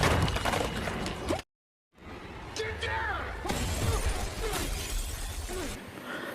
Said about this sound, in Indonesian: terjadilah ledakan kaca dan lantai papan yang terangkat pecah